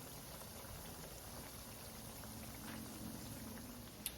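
Salmon croquettes frying in a pan on medium heat give a steady, close, even sizzle that runs the whole time with no break, with one brief click near the end.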